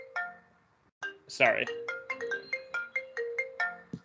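A mobile phone ringtone, a bright melodic run of repeated electronic notes in a steady rhythm, loud and close, interrupted briefly by a voice speaking over it.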